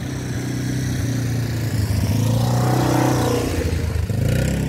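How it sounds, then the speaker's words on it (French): A quad bike passes nearby outdoors, its engine droning and revving as it rumbles by over a few seconds. "il y a un quad qui passe"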